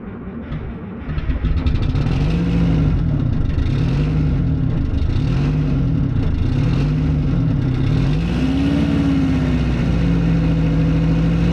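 A 1972 Peterbilt cabover truck engine with a weak starter catches after a short crank and settles into a loud, steady running note nearby, with a rhythmic rise and fall in pitch and no voices.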